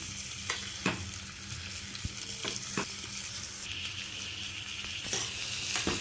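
Tomato sautéing in a pan for ridge gourd kootu, a steady close sizzle with occasional scrapes and stirring clatters, no talking.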